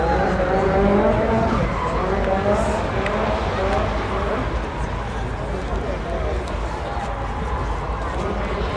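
A BMW rally car races past on a stage at a 2010 rally gathering in Baltar. The loud engine and tyre noise sweep by close while nearby spectators talk over it.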